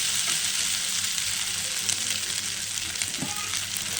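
Onion and tomato sauté in a pan for a village-style chicken pepper chukka, giving a steady, close, even sizzle and hiss throughout with no talking.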